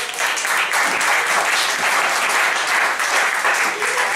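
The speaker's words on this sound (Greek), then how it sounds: "Ένα χειροκρότημα για τη Μαρία." An audience at a karaoke night claps steadily throughout, a dense, sustained round of applause heard close and fairly loud, with faint voices mixed in under the clapping.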